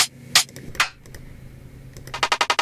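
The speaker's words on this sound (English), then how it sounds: "A rim, just in general, sounds something like this." Sharp, bright percussive cracks from a drum rim shot sample for a tropical reggaeton beat: a few isolated hits, then a quick run of evenly spaced rim clicks at the end, dry and close.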